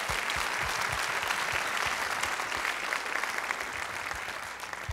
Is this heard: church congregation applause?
yes